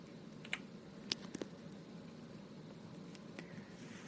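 A computer mouse gives a few faint, sharp clicks, scattered singly and in a quick pair, over a quiet room hum, with no one talking.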